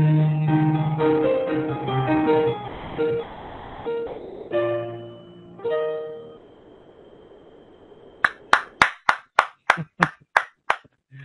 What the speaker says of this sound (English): the sound of two hands clapping